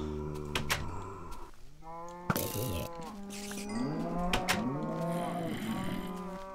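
A cow in the video game Minecraft lets out several drawn-out moos, close and fairly loud, one after another with short gaps, with a voice briefly heard alongside.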